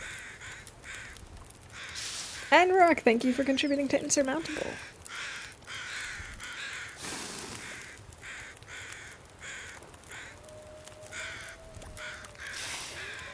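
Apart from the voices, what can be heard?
crows cawing in the video game The Long Dark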